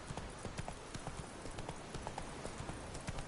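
Horse galloping in the video game The Witcher 3, rapid rhythmic hoofbeats drumming steadily and fairly close throughout a short stretch, with a faint low background.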